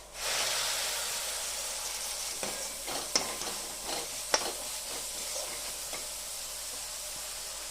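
Banana flower vegetable being stirred and fried with spices in a pan, giving a steady close sizzle with scraping stirs and a few sharp clinks of the spoon against the pan.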